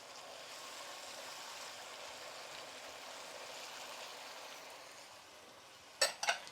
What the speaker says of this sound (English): I'm going to add the cooking sherry to it